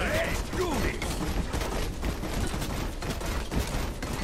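Turret gunfire in the video game Overwatch, a dense chatter of rapid shots and mechanical clatter running throughout among other game sounds, with a voice briefly heard near the start.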